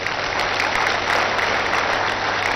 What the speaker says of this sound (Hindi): जरा इसके लिए जोरदार तालियां हो जाएं